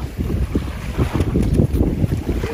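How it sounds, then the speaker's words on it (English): Strong wind buffets the microphone while a kayak moves across Spray Lakes Reservoir in Kananaskis, Alberta, the low roar and rumble continuous and loud, with water lapping and paddle splashes mixed underneath. "Here we are kayaking this spring lake."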